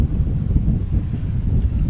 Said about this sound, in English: obviously you know this is Langston Harbour and it is quite windy